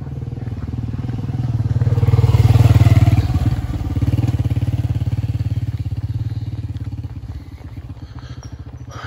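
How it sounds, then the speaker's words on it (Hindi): A motorcycle comes up from behind on a track through Ayubia National Park, its engine loud and close with a steady chugging rumble that swells and eases. "पीछे बाइक आ रही है"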